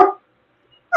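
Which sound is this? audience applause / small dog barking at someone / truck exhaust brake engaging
small dog barking at someone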